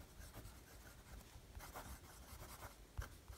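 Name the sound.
Parker Jotter fountain pen with medium steel nib writing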